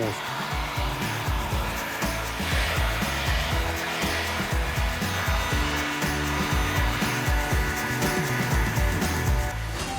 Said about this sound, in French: je vais lui donner un coup de chaud avec un pistolet thermique